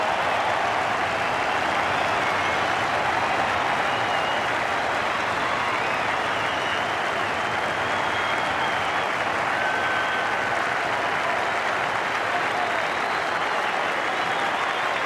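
A large cricket crowd at Melbourne Cricket Ground applauds a wicket during a Test match, dense sustained clapping and cheering that fills the whole stretch with a broad, even roar.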